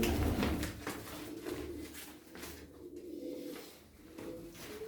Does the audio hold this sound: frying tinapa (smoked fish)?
no